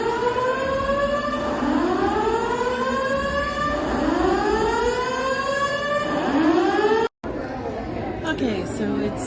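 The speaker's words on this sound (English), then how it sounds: "that weird beeping sound that you heard was because the power went out in the elevators going up to our room" Elevator alarm in a Las Vegas hotel during a power outage, a loud repeating rising electronic wail sweeping upward in cycles about every two seconds, then cutting off abruptly into background noise.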